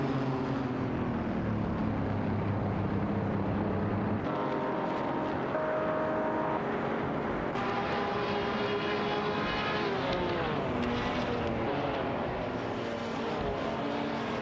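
Lamborghini Jarama S and Alfa Romeo Giulia race cars battle in a racing video game, their engines a steady, loud buzz of layered tones that step up and shift in pitch with gear changes, with no talking.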